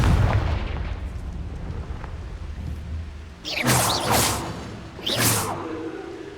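The Confringo explosive spell is cast in Hogwarts Legacy, producing two sharp whooshing blasts a couple of seconds apart over a low rumbling game background.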